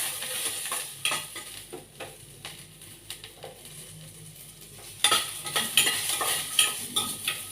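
Onion and garlic fry in oil in a pan, a close crackling sizzle with stirring scrapes that grows louder and busier partway through; no voices.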